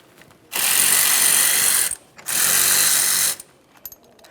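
A ratchet spins out a 13mm engine mount through bolt on a Jeep Patriot with a 2.4L four-cylinder, two loud sustained bursts of close, buzzing mechanical clicking separated by a short pause, then a few faint clinks.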